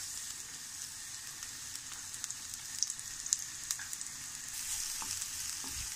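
Chopped garlic fries in a little hot oil with a soft, steady sizzle and scattered small pops, quiet and close.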